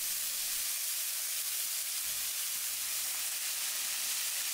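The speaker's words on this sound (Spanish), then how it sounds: "incorporamos dos cebollas muy picadas. Salamos ligeramente y dejamos que se sofrían" Finely chopped onions and garlic sautéing in oil in a casserole, a continuous broad hiss and sizzle, steady and close, with no voices.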